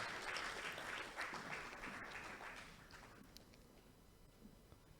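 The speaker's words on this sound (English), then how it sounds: "Oh, shall we keep clapping as he comes?" Audience applause at an agribusiness leadership event rises loudly as a guest approaches. The patter of many clapping hands fades over the next few seconds into quiet room tone with a few scattered claps.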